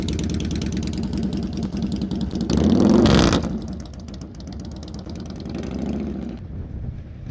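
A motorcycle crawls at slow speed through practice turns around cones, its engine murmuring low and close, swelling into a brief throttle burst near the middle before settling back to a gentle idle-like chug.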